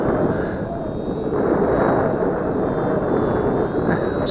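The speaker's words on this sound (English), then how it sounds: "Oh, such an easy airplane to fly." An XK DHC-2 A600 RC model airplane in flight, its motor producing a continuous high-pitched whine over a dense airy roar, steady and prominent with no pauses.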